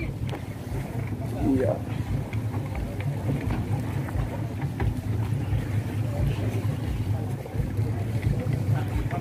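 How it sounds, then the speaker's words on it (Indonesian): Engine rumble from the passenger ship Cantika Lestari as it pulls away from its mooring at Larantuka harbour, a steady low drone with wind and harbour ambience, and a voice speaking briefly over it. "kapal Cantika Lestari akan bertolak dari Pelabuhan Larantuka"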